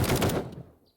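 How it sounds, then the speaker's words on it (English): A tactical assault rifle in the game 7 Days to Die fires a short, loud rattling burst of rapid shots, then cuts off, followed by a small metallic click. "We got the tactical assault rifle."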